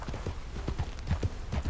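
Horse hooves clip-clop in the video game Red Dead Redemption 2, a quick, regular rhythm of muffled thuds at a trotting pace, close and moderately loud.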